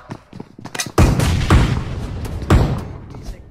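Heavy explosive booms burst in a zombie video game as a bomb goes off, a few sharp blasts with rumbling tails layered over clattering action sounds.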